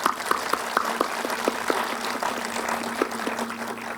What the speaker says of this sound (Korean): 우리 지역민들께 박수 한번 해주시기 바랍니다